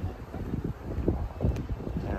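Wind buffets the microphone while cycling along the Han River in Seoul, a low rumbling gusty roar that swells and dips unevenly, fairly faint and with no clear talk over it.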